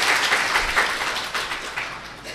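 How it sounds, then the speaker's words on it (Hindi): Audience applause at a meditation retreat gathering, a dense steady wash of many hands clapping loudly and continuously throughout, with no voices standing out. "ताली इतनी कंजूसी से ना बजाएं, है ना, थोड़ा ज़ोर से बजाइए फिर से"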